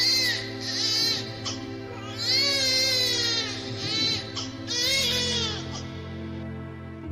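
An infant cries loudly in repeated wailing bursts with rising and falling pitch, separated by short breaths, over a soft sustained musical background in a dramatized telling of a religious story.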